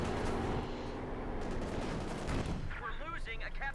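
Gunfire from an MG-42 machine gun in the Company of Heroes 2 strategy game, a dense rattling burst running continuously under loud battle noise before thinning out, while a commentator talks.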